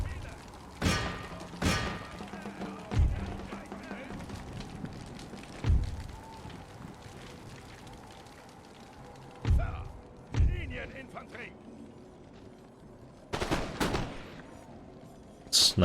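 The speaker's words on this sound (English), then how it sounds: "These ones should start firing as well." Musket volleys from troops in Empire: Total War fire as scattered sharp cracks and thumps, several spaced reports and a tighter cluster near the end, over quiet battlefield ambience.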